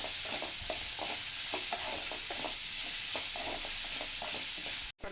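Vegetables sauté with a little salt in a pan for spicy kuzhi paniyaram, under a soft continuous sizzle with repeated light scraping stir strokes, close but quiet, no voices.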